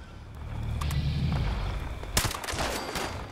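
A gun firing in Fallout 76, with a burst of rapid shots and a sharp crack partway through, set against a steady rumbling background at moderate volume.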